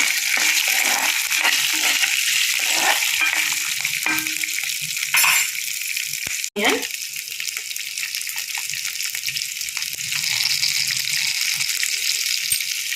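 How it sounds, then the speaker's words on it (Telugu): Green chillies frying in a pan of hot oil for spinach pachadi, with a loud continuous sizzle and spatter, a few scrapes and a sharp clink midway. "ఒక 5-6 పచ్చిమిరపకాయలు వేస్తున్నాను అండి"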